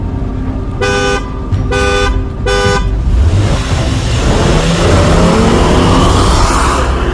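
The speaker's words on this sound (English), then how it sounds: "On the third honk, ready?" A BMW X5 car horn sounds three short, evenly spaced honks, then the engine revs hard and accelerates loudly, with no talk.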